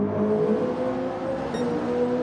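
GT3 race cars in Gran Turismo 7 give a steady, loud engine drone with a slight rise in pitch, continuous for a couple of seconds and without speech.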